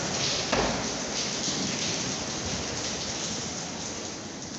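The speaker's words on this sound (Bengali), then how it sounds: "প্রচুর শিলাবৃষ্টি হইতেছে আর ঝড় হইতেছে" Hailstorm with strong gusty wind and rain in Gazipur, a dense roar of wind and pelting precipitation filling the whole stretch at steady loudness, with one sharp crack early on and no voices.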